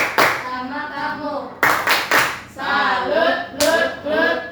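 A school class does the rhythmic 'tepuk salut' clap chant, sharp bursts of hand clapping in short patterned groups interleaved with children's chanting voices.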